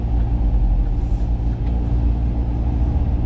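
Cars pass along a road near a bend with a steady low rumbling drone, fairly loud and close, with no voices over it.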